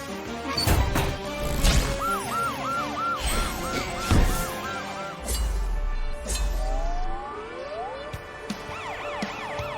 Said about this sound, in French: Sa sirène lui ouvre la voie.